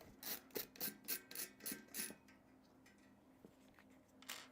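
A bolt is backed out during a PC build with about seven quick, rhythmic rasping ratchet strokes, faint and close, followed by near silence and a last soft scrape.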